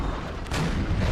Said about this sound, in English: Jeez, and that artillery is loud.